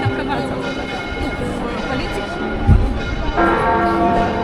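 A church clock's bells strike noon in a Valencia square, faint ringing tones drifting over a bustling street with crowd chatter and nearby voices, a deeper chime rising toward the end.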